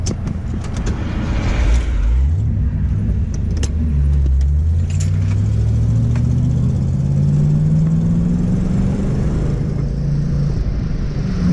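A 1985 Ford Mustang LX 5.0 convertible drives along, its V8 engine rumbling loud and close as the revs climb and drop through gear shifts, with faint rattles from inside the car.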